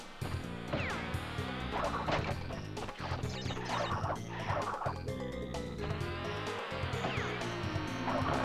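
Buzzing insects in the Crash Bandicoot 2 video game, a dense whirring drone mixed into busy game music and thuds, continuous and loud throughout.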